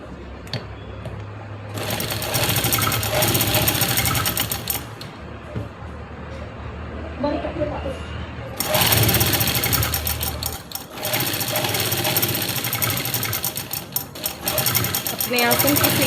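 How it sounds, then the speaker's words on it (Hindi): An electric sewing machine stitches a salwar seam in two long close bursts of rapid whirring, separated by a pause with softer handling sounds, then a faint stop near the end. "अब दूसरी साइड से भी हम अपने आसन की सिलाई लगा लेंगे।"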